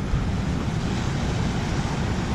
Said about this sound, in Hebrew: ים גואש סוער